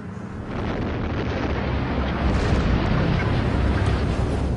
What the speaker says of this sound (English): It's called explosion welding.